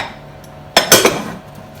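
A metal whisk knocks against the rim of a bowl, a few quick clinks in a brief burst, close and sharp.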